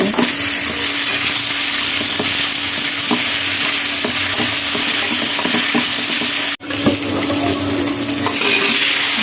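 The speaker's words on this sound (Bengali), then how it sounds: "আমি এখানে আদা রসুন পেস্ট দেব" Ginger garlic paste sizzles steadily in a hot pan while a utensil stirs and scrapes against the metal in an irregular rhythm, with one sharp knock partway through; no one speaks.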